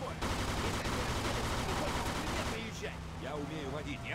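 Rapid bursts of gunfire from a Mafia II shootout crackle continuously and loudly for several seconds, easing off near the end as voices come through.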